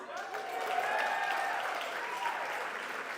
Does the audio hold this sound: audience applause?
yes